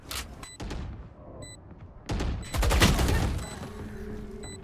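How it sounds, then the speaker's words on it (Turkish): Gunfire in the tactical shooter Valorant on the Split map, with several sharp shots and short bursts crackling across the round, the loudest cluster near the middle, set against steady game ambience. "Ya bir mermi attı, öldüm kanka."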